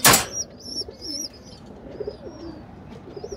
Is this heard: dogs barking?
no